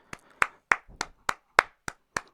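Eight crisp hand claps ring out alone in a steady counted rhythm, close and evenly spaced, with a faint voice murmuring between a couple of them.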